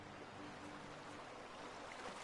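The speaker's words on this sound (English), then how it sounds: "Nice ass waterfall." A waterfall in a video game gives off a faint, steady broadband rush of falling water, continuous and unbroken with no distinct splashes, heard alone at low volume.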